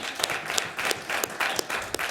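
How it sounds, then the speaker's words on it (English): Applause from the crowd at a city council meeting, brisk overlapping claps at close to moderate distance, with a few louder individual hand claps punctuating the steady patter over two seconds. "Let's give them a round of applause"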